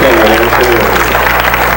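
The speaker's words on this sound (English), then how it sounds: "A big round of applause." Audience applause at a grad night hypnotist show, heard as a loud, steady wash of clapping. A voice carries over the clapping at the start.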